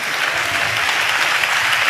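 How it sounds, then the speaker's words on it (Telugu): A church congregation claps loudly during a sermon, a dense, even roar of many hands that fills the whole moment with no talk over it. "చప్పట్లు కొడదాం గట్టిగా"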